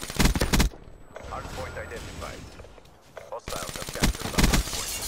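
Black Ops 3 gunfire, rapid loud automatic bursts at the start and again toward the end, with quieter game sounds between them.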